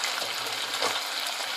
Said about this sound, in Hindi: मैं इसको भून रही हूँ